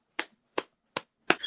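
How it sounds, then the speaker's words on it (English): Four sharp, isolated hand claps, spaced roughly 0.4 seconds apart in an otherwise quiet room, close and crisp, the last one slightly louder and followed by a brief tail of noise. "Let me just clap it."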